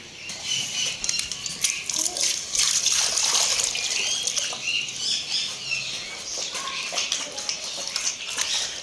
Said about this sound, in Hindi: सबसे पहले सब परिंदों और जानवरों को पानी डालते हैं